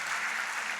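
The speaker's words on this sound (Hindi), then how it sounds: "आप अपने लिए क्लैपिंग करिए, तालियां बजाइए" Audience applause at a Forever Living India success day event in Kolkata, a brief wash of steady clapping with no voices over it.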